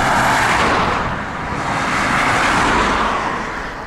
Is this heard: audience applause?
no